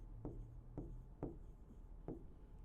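Pen or marker writing during a chemistry lesson on unit conversion, four soft distinct strokes spaced about half a second apart, faint and close over low background hum.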